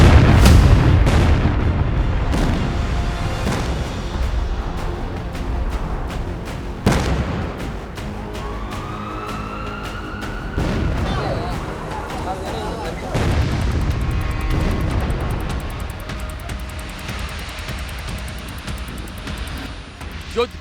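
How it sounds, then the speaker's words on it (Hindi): Explosions from a Russian bombardment in Ukraine sound as heavy booms and sharp blasts at irregular intervals, loud and reverberant, with a narrating voice over parts of them. "रूस यूक्रेन के अहम ठिकानों को निशाना बनाकर बमबारी कर रहा है।"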